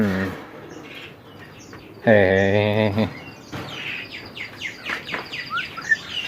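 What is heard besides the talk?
birds chirping in a cage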